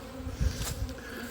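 Honeybees hum around hive boxes during an early spring hive check in February, settling back in. The buzzing is close and continuous with no voices.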